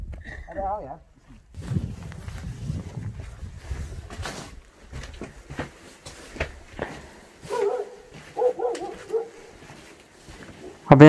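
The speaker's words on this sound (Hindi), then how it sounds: "अबे यहाँ कुत्ते भौंक रहे हैं।" Dogs bark intermittently around an old monastery in the Spiti Valley, the barks and yelps mixed with footsteps and people talking nearby.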